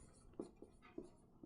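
Pen strokes on paper or a board during a Class 8 exponents lesson, a few soft separate scratches at a slow uneven rhythm, faint and close with no talk.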